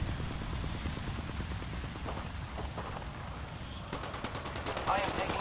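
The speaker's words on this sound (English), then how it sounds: "I am taking fire, friends." Rapid automatic gunfire rattles in the Apex Legends battle royale game, a dense burst of shots from mid distance mixed with game effects, while a voice talks over the fighting.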